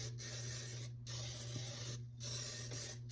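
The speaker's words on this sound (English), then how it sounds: "Spray my pan real good." Cooking spray hisses onto a baking pan in three steady, close bursts separated by short pauses, over a low background hum.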